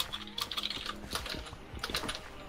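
Rapid computer keyboard typing, a dense run of sharp key clicks at close range with no voices, during a frantic moment in a Velt faction-raiding game session.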